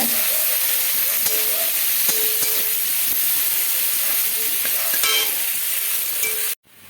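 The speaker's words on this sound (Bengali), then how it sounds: "পেঁয়াজটা একটু ভালো করে ভেজে নেব।" Onions sizzle and hiss steadily in a hot pan while being fried for a Bengali fish curry, with occasional scrapes of stirring, before the sound abruptly cuts off near the end.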